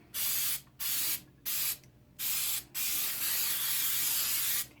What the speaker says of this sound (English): I'm going to liberally spray my pan.